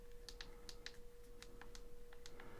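Clicky buttons of an IBlason case fitted to a Samsung Galaxy Note 20 Ultra, pressed repeatedly in quick, irregular close clicks over faint background hiss.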